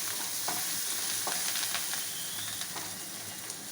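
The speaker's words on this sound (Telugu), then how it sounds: "పేస్ట్ ఫ్రై అయిందండి." Masala paste sizzles steadily in a pan for a country chicken curry, with a continuous frying hiss broken by occasional stirring scrapes across the full length.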